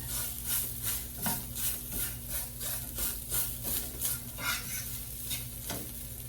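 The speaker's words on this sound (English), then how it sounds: "And now we're just sauteing it." Ingredients for Albanian pasul, a northern bean dish with bacon and veal, sautéing in a pan with a soft sizzle under rhythmic stirring strokes, steady and close.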